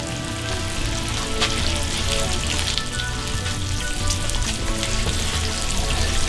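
Bacon sizzles and spits in a frying pan, a steady dense crackle with scattered sharp pops running the whole time, close and fairly loud with no talking over it.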